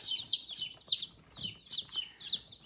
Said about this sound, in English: These are some happy chicks.